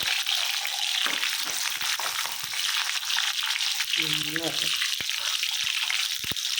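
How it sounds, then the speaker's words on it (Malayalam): Loud, steady sizzling of garlic and ginger frying in hot oil, close up, with a brief voice and a few scraping stirs. "നമുക്ക് ഇഞ്ചി അങ്ങനെ അങ്ങനെ ഓരോന്ന് ഓരോന്ന് ആയിട്ട് വറുത്തെടുക്കാം"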